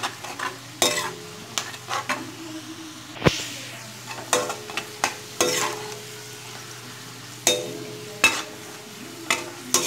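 Onions frying crisp in ghee for Kolkata-style mutton biryani, a soft continuous sizzle broken by repeated scraping stirs against the pan, close and fairly quiet over a low hum.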